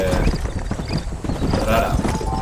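Horse hooves clip-clopping in the western video game Red Dead Redemption, a steady rhythmic beat of hoofbeats on the trail under continuous talk, with game ambience around.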